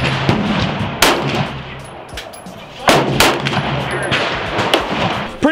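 Gunfire outdoors from a gun fitted with a conversion kit, several loud sharp close shots at irregular intervals with echoing tails, with faint voices in the background.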